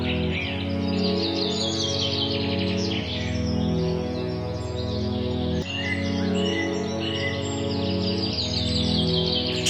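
A small bird chirps in quick repeated bursts over a steady, looping musical backdrop, the calls bright and close in a cartoon scene.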